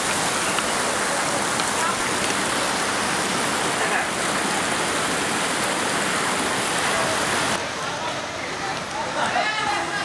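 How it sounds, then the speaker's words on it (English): Waterfall water crashes nearby in a dense, steady roar of falling and splashing water that fills the whole scene without letup, easing slightly near the end as a voice becomes faintly audible. "There's a really cool waterfall right behind us."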